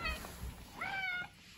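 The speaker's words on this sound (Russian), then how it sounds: "Что же ты так мяукаешь?" A lone house cat in an apartment gives a clear, drawn-out meow near the microphone, preceded by a couple of soft thumps in a quiet room.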